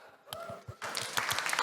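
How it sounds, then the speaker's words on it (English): An audience at a talk on virtual influencers breaks into applause. It starts softly, then swells into a fuller burst of clapping that carries on for just over a second. "Applause."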